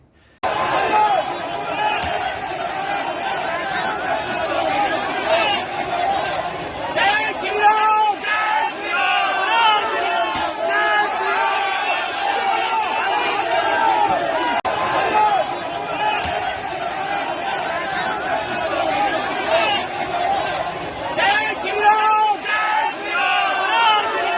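Crowd chanting slogans during a Shivaji Jayanti procession at night in Amberpet, Hyderabad, in front of a mosque: a dense, loud mass of shouting voices, sustained and rhythmic throughout, with occasional sharp cries rising above the roar.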